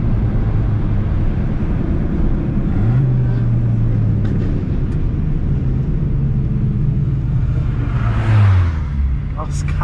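A car engine, either an Audi TT or a Jetta 2.5 racing on a street, rumbles low and steadily with a gradual rise in pitch as it accelerates, heard up close with a faint background hiss.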